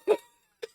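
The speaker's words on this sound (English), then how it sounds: "I still have a cough." Two short, dry coughs close by, a louder one followed by a fainter one after a brief pause.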